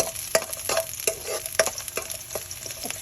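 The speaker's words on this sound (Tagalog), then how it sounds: "gisa na yung bawang" Garlic sautés in a hot pan, with a soft crackling sizzle broken by a run of sharp, fairly regular stirring scrapes and clicks from a utensil, close and clear.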